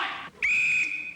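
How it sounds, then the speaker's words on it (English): A single sharp, shrill blast from a police-style whistle, held for under a second right after a brief burst of noise, loud and close with no talking. "I am not a Gestapo officer until I blow my whistle."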